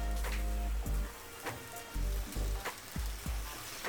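Fish roe mixture with coriander leaves fries in a pan over low heat, a soft steady sizzle broken by a few quiet scraping stirs, faint and close.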